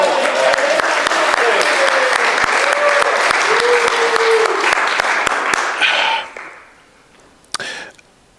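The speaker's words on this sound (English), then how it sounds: "That was kind of anemic clapping." Clapping from a storytelling festival audience, fairly thin and scattered rather than a full ovation, runs for about six seconds and then fades, while a voice talks over it and a couple of brief vocal sounds follow.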